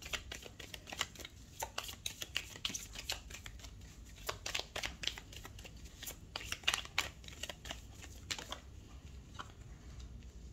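Tarot cards being shuffled by hand, a quiet, close run of rapid riffling and flicking taps with uneven rhythm that continues for several seconds before trailing off.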